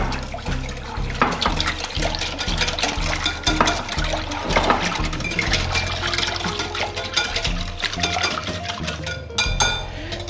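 Steady wet sloshing and clinking as spices are stirred into a liquid marinade for fried chicken, a continuous close mixing sound with rhythmic scraping against the bowl throughout.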